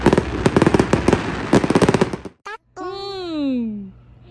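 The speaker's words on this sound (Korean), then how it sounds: "폭죽 터진다" Fireworks bursting outdoors, a rapid run of sharp crackling pops and bangs for about two seconds, followed after a short gap by a rising then falling whistling tone with harmonics and a low steady hum beneath.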